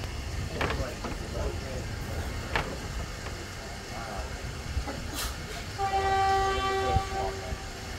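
Train at a small railway stop in Thailand, a former station, with a rumbling engine and ambient noise and a sustained horn tone near the end; voices are heard faintly in the background.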